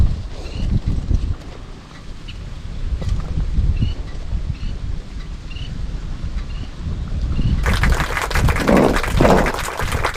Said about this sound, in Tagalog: Super hangin na po